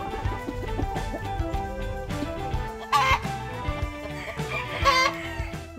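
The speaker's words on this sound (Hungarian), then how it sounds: "Már jeleztek, amikor kotkodácsolnak, akkor megjött a tojás." Araucana hen cackling after laying an egg, a run of rhythmic clucks with two louder, sharper squawks standing out near the middle and end, close and clear with no talk.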